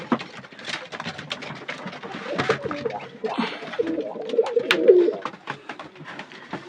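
Pigeons coo throughout a loft shared with a few quail, overlapping throaty calls rising and falling over scattered wing flutters and clicks, with one louder coo standing out near the end.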